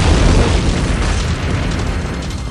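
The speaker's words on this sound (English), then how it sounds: "The first explosion rocks the plant." A massive explosion at a chemical plant in the Nevada desert that makes rocket fuel components, heard as a loud, sustained deep rumbling roar that fills the whole span and slowly eases.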